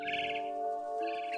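A bird chirps in the video game What Remains of Edith Finch, a faint call drawn out over steady ambient game tones, with a brief pause and then the call again near the end.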